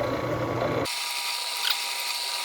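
A drill press spins an abrasive against metal for engine turning, giving a loud whirring grind that cuts off abruptly under a second in, leaving a thinner high-pitched whine afterward.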